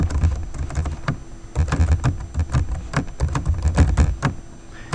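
Code is typed on a computer keyboard, a close, steady run of quick key clicks in bursts with brief pauses, and no talk.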